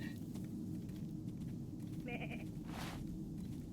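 Goats bleat in the TUG survival game, a few short nasal cries around the middle over a steady low rumble of game ambience, with no talking.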